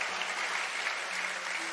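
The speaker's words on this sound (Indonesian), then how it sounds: "Tepuk tangan dong buat saudara." A church congregation claps together, a brief burst of even, sustained applause at moderate distance that fills the space without a break.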